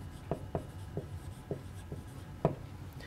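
Chalk or pen writing out a math formula, a series of short, sharp scratchy strokes with pauses between them, quiet and close, with no talking.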